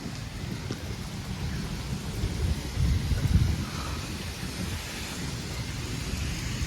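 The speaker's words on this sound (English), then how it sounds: "That's why the thunder happens after the lightning." Low rumbling thunder rolls through a thunderstorm alongside steady rain, swelling to a louder peak midway before settling back into continuous rainfall; no voices.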